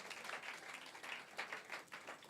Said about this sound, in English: Please clap better.